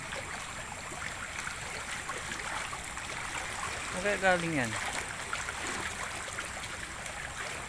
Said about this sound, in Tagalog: Lumalakas pa nga talaga tubig.